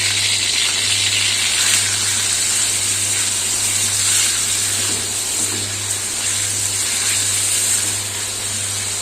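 Chicken breast, cut into small pieces, fries in hot oil in a wok, giving a steady, loud sizzling hiss with faint spatter that holds unbroken throughout, alongside a low constant hum.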